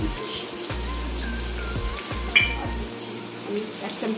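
Potatoes frying in a pan for a Bengali vegetarian greens dish with turmeric, sugar and green chili added, a steady close sizzle with occasional stirring knocks throughout.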